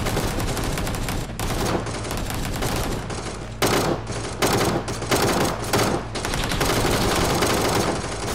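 Gunfire in the video game PUBG: dense automatic bursts and rapid shots, loud and close, come in several runs separated by short gaps.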